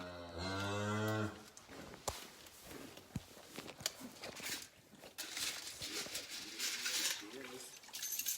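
A cow moos loudly once at the start on a farm where its calving is being assisted, followed by shuffling, thumps and background commotion with faint voices.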